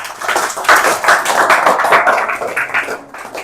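A group of students clapping in a classroom for a classmate, a close, fairly loud burst of rapid, uneven hand claps lasting a few seconds before trailing off.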